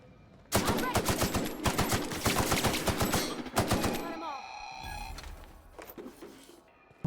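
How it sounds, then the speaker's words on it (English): An assault rifle fires in the game The Outer Worlds, loud, rapid close bursts with a brief pause, then dying into quieter ringing and scattered thuds before one final sharp report. "we're gonna try the assault rifle"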